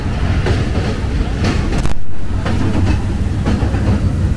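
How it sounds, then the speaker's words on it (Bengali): The Madhumati Express rumbles loud and close as it crosses the Hardinge Bridge, a steel rail bridge in Pabna, Bangladesh, with a dense roar and rhythmic clatter that briefly drops out before resuming. "আমাদের ট্রেন প্রবেশ করছে হার্ডিংস ব্রিজে।"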